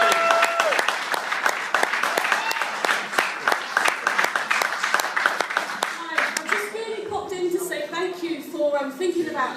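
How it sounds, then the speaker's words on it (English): A crowd at a food bank benefit gig in Keighley claps for about six seconds, loud and close with sharp individual claps. The clapping fades as a voice begins speaking. "So we can have a big round of applause for Alison when she comes up"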